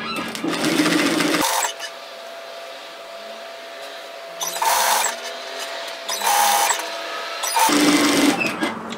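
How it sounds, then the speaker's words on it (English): A sewing machine stitches a robe in short bursts, loud rapid whirring runs separated by brief pauses as the fabric is eased and the tension released. "So I just sew a couple and then release the tension off."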